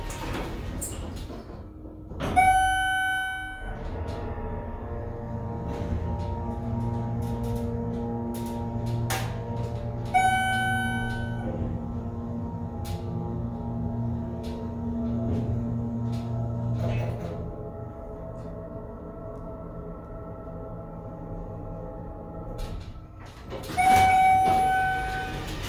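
A Schindler MT hydraulic elevator motor runs with a steady low drone and hum, broken by several loud electronic chime tones that ring out at intervals over the machinery.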